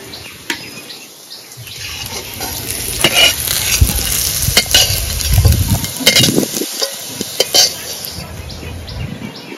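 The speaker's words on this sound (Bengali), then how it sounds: "আলু লাল লাল করে ভেজে নিয়েছি" Potatoes frying in hot oil in a pan for a Bengali prawn and pointed gourd poppy-seed dish, with a steady sizzle, stirring scrapes and clinks of a utensil against the pot, close and fairly loud.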